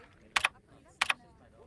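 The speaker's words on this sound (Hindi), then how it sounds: "ये कंप्यूटर तो ऐसे चला रहा है जैसे टाइपराइटर चलाते हैं" Two sharp, separate bursts of key strikes on a computer keyboard, close and fairly loud over a quiet background, about half a second apart.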